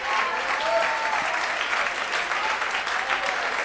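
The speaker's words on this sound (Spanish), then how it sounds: "Dele un aplauso a Él." Steady applause from a church congregation, dense and continuous throughout, with a few faint voices mixed into the clapping.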